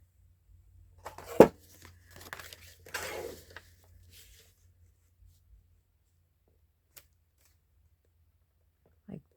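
A paper recipe for a Christmas journal is trimmed with scissors: a sharp snip, then a few soft rustling, papery cuts, close and quiet, followed by a long near-silence with a faint tap.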